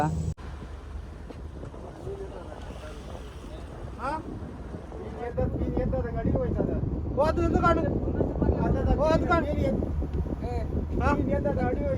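A deep-sea fishing boat travels at sea off Malpe, with a steady loud rumble of engine, wind and water throughout. Voices talk faintly over it.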